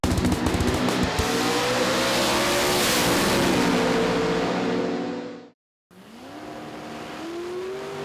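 A drag race car from an NMRA/NMCA Chicago 2012 elimination round accelerates hard down the track, its engine roaring loudly and rising in pitch. The sound cuts out briefly before another run starts, revving upward.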